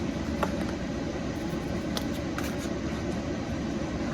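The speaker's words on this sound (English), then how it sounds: "I'm so sorry if you can hear my air conditioner" An air conditioner runs steadily indoors, a constant broadband hum and whoosh that holds level throughout, with a few faint clicks on top and no talking.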